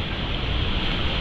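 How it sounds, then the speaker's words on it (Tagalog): Strong typhoon wind roars steadily and loudly throughout, a dense continuous rush with no pauses and no voices. "wala pa rin po tigil yung pagampas ng hangin"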